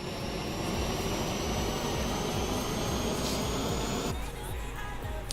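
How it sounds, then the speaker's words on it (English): Auxiliary power unit of a FlyByWire A320 airliner in Microsoft Flight Simulator spinning up, a steady loud whining turbine roar with a constant high tone that holds throughout and shifts character slightly near the end. "APU should be on. You can hear this sucker spinning up."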